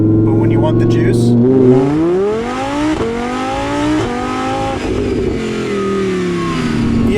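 A supercharged Audi R8 V10 with a Capristo exhaust accelerates hard, its engine note climbing loudly through repeated rising sweeps as gears change, close and dominant throughout.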